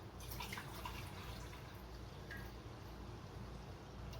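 Vinegar pouring into a 2-cup measuring cup in a home kitchen, a faint steady trickle with light dripping, quiet and without talk.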